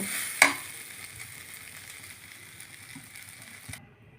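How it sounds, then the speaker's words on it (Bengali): Water is poured into a hot pan of fried rice and vegetables for vegetable khichdi: a sharp clink, then a steady close sizzling hiss that cuts off abruptly just before the end. "এবার আমি পরিমাণ মতো জল দিয়ে দেব"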